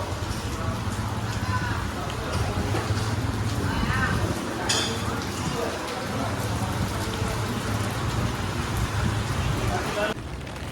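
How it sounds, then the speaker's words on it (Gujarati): Steady rain falls around a vehicle on a road trip from Bhavnagar to Surat, a continuous hiss with a low vehicle drone underneath, while people chat nearby over it. "એવો મસ્ત વરસાદ આવે છે"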